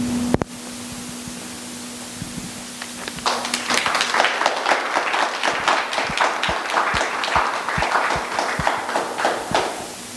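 A lecture audience breaks into applause after a talk on reconciliation. Dense, many-handed clapping builds up after a few quiet seconds, then keeps going steady and fairly loud to the end.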